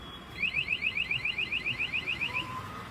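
A Bajaj Pulsar NS motorcycle's anti-theft remote alarm sounds a rapid string of about fifteen evenly spaced high electronic chirps, fairly loud and close, with no talking over it.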